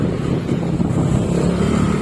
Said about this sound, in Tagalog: Pero puro mga motor na oh.